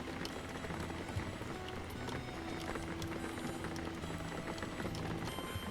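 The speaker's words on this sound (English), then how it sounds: "the rain animation stops when we're in the tunnel, but the sound effects continue unabated" Steady rain patter from the video game Jalopy hisses evenly throughout with a soft, dense texture of scattered drops, fairly quiet and unbroken, with no voices over it.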